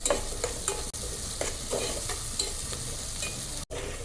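Dried shrimp and turmeric fry steadily in a pan, giving a continuous close sizzle broken by scraping stirs and brief clinks, with no voices.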